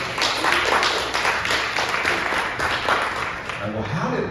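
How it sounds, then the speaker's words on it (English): An audience gives a round of applause at a speech-filled event, a fairly loud, continuous wash of clapping with some talking mixed in underneath. "Let's give them a round of applause, please."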